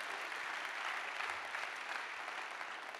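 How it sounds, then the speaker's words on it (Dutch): Steady applause from an audience honoring teacher Rian van Genen, Teacher of the Year 2013, at an awards ceremony for excellent schools; a dense, even wash of clapping that holds at moderate level throughout. "Geef haar even een groot applaus."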